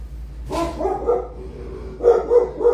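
A dog barks indoors near an open front door in two short bursts a second or so apart, fairly close and moderately loud.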